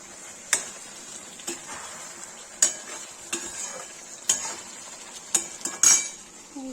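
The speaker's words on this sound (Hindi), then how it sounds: "अब दम आलू मिला दही में" A spoon stirring fried potatoes into yogurt for Kashmiri dum aloo, giving close, repeated metallic scrapes and clinks against the pot at an irregular pace over a soft background sizzle, with no talk.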